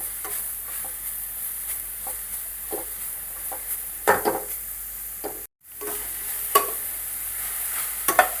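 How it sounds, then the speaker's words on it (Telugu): Grated carrots for carrot halwa fry in a pan with a steady low sizzle, broken by periodic scraping stirs of a spoon, one brief silent gap midway; no one talks. "దీన్నైతే ఇప్పుడు ఫ్రై చేసుకుందాం."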